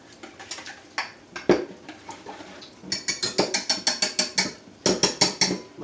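A whisk stirs mushrooms in a pan, giving repeated quick metallic scraping and clinking strokes. The strokes are close and moderately loud, irregular at first and then falling into a steady rhythm.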